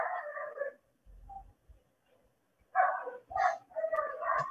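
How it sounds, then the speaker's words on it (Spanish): Dogs bark and yelp outside, one from a nearby street corner, in short agitated bursts separated by pauses, loud and close with a faint low rumble between. "Perdonen la bulla de los perros, pero a esta hora ese perro de la esquina se alborota horrible."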